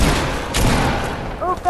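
Gunfire in the Fortnite Nitemare Royale mode, a dense burst of shots that rattles on through most of the moment, with voices breaking in near the end.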